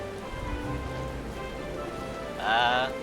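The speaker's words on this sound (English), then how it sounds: "It's raining here too." Steady rain patters on a surface in a continuous hiss, with a brief brighter chirping sound near the end.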